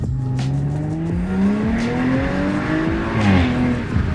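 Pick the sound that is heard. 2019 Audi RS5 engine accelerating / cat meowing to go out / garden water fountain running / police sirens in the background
2019 Audi RS5 engine accelerating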